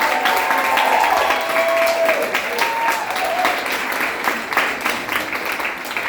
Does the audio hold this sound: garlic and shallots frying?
no